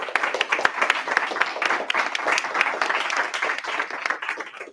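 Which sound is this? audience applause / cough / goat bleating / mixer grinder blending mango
audience applause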